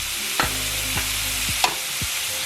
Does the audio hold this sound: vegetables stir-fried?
yes